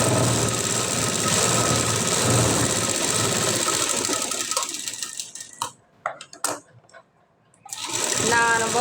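A sewing machine stitches saree cloth for a blouse back design in a steady close run that slows and breaks into short bursts and pauses, then resumes.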